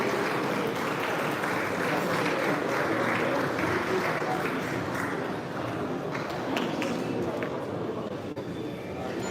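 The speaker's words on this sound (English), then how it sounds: "ladies and gentlemen, a big round of applause for Deepti" Audience applause at a live real estate master plan presentation, a dense, steady patter of many hands clapping at moderate level, continuous across the whole stretch with no talk.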